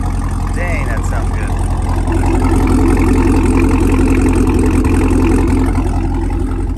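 Car with a Corsa Extreme Plus catback exhaust idles close by with a loud, steady deep rumble, and a person talks over it.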